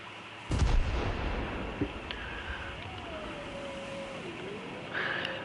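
A loud bomb blast in War Thunder hits with a sudden deep boom, then a rumbling tail while a naval ship's engines and battle noise continue, with a couple of smaller distant thuds after it.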